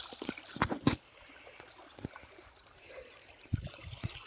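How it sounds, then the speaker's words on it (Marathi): Irrigation water trickles and gurgles into a farm field bed, a faint continuous flow punctuated by a few louder splashes and knocks close by. "आता हा संपूर्ण बंद केला, आता इकडे पाणी चालू आहे।"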